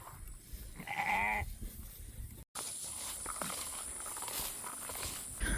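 Sheep in a pasture bleat in a short, clear call close by, followed by quieter shuffling and rustling noise of livestock moving.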